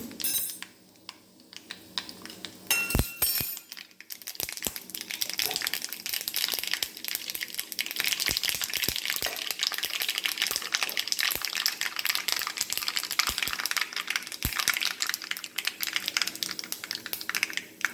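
Dense crackling and sharp popping of mustard seeds bursting in hot oil, close and continuous over a bright hiss, with a few louder snaps scattered throughout.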